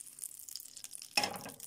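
Butter sizzles in a frying pan as bread is fried for croutons, a quiet crackling hiss with soft pops, and one brief louder burst of spattering near the end.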